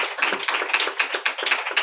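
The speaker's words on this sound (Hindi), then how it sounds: "तालियां बजाओ यार अय्यूब के लिए" A church congregation claps for Job during a sermon, a burst of many hands clapping in a fast, fairly steady rhythm, loud and close with no talk.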